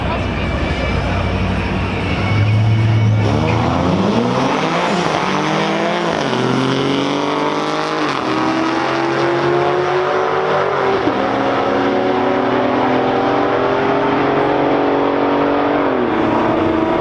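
A drag race car launches and accelerates hard down the track, its engine roaring loudly and climbing through repeated gear-change sweeps for the whole stretch.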